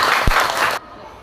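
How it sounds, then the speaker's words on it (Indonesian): Applause from a classroom group of teachers in a coaching and academic supervision session, praising group 2. A short burst of broadband clapping with a thump near the start, cut off abruptly under a second. "berikan tepuk tangan untuk kelompok 2"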